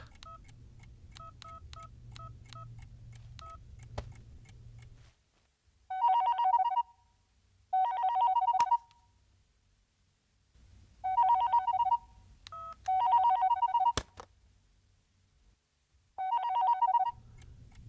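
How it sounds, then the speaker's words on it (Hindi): A telephone rings in repeated short bursts with pauses between, preceded by a quick series of dialing tones; no voices. "राधा को फोन करते हैं"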